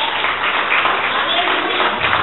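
Church congregation applauding at a Portuguese-language service, a steady wash of many hands clapping at once for the whole stretch, fairly loud and dense, with no clear pauses or separate voices standing out.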